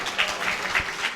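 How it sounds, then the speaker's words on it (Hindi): A mushaira audience in Mangrulpir applauds the sound system crew in a brief, dense burst of clapping at moderate distance. "एक मर्तबा इनके लिए तालियां बजाएं आप"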